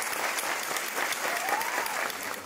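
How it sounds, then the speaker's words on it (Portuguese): A cinema audience gives actress Léa Garcia a standing ovation at the Gramado festival, a dense, sustained wash of many hands clapping evenly throughout. "o público presente na sessão aplaudiu de pé Léa Garcia"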